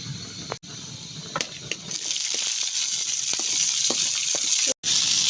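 Cumin seeds hit hot oil in a kadai with chopped onion and green chilli, and a sharp hissing sizzle builds and holds steady, with a few light knocks at the start.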